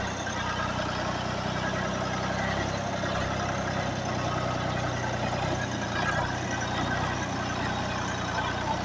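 A tractor engine runs steadily at close range during apple and pepper harvest work in Karaman, a continuous broadband rumble with no pauses, and no speech stands out over it.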